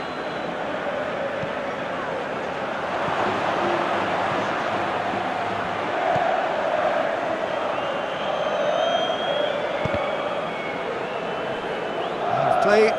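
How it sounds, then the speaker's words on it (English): A stadium crowd in eFootball PES 2020 roars and rises in anticipation during a Mallorca versus Barcelona La Liga match, a continuous dense murmur of cheering that swells near the end, with commentary voices over it. "Crowd calling for him to shoot."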